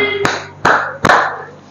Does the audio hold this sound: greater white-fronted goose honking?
no